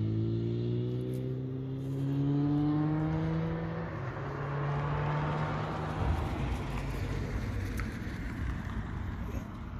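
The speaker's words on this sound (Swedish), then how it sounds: "Skönt ljud med de här motorcyklarna" Motorcycles driving by on an outdoor ride, engines rising and falling in pitch as they pass, moderately near, over a steady wind-like rumble.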